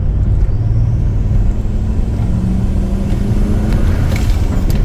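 A Volvo XC90 with a turbocharged V8 idles steadily at 2,000 RPM with no throttle, giving a loud, continuous low rumble close by with no talking.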